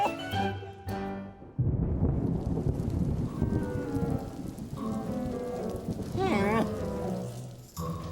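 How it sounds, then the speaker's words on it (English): A steady hiss of rain falling under voices and music, with a low rumble; people talk over it throughout. "It's raining."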